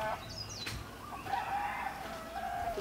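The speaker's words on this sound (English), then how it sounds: "you can hear the roosters." A rooster crows at a distance over a steady outdoor background hum on a homestead, with faint bird chirps mixed in.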